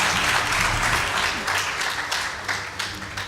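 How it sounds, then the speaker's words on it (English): A school debate competition audience breaks into applause for the winning team, dense clapping that starts strong and gradually thins out, with a few sharper claps near the end. "Please give them a round of applause."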